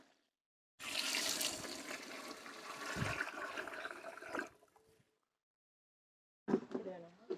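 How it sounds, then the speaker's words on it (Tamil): Water poured onto soaked rice for a Salem-style beef biryani, a steady gushing pour for several seconds, then silence and a short second splash. "ஊற போட்டு படி அளந்தாச்சு அதை அஞ்சு படி ஊற்றிக்கலாம்"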